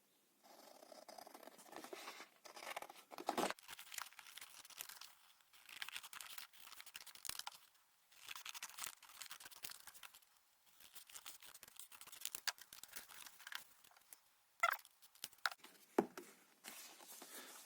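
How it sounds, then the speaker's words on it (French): Scissors snip through paper cards in short bursts, crisp cutting strokes separated by brief quiet pauses, close and fairly soft. "on utilise des ciseaux."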